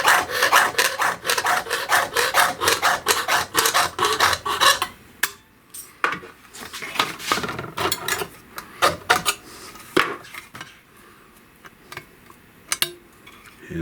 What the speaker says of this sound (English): I'm going to cut that with my jeweler's saw.